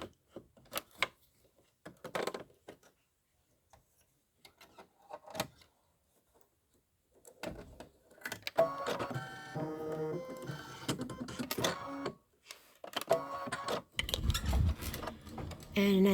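A Kimberbell embroidery machine stitching blue thread gives a quiet, intermittent mechanical whirring and clicking, with sparse bursts that grow denser and busier toward the end.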